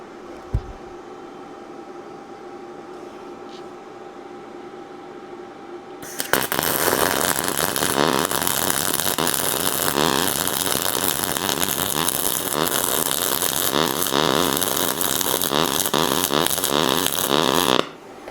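Arccaptain MIG 205 double-pulse MIG welding on aluminum at a 5 Hz pulse rate: after a quiet hum, a loud, steady buzzing crackle starts and runs without a break for about twelve seconds before cutting off abruptly.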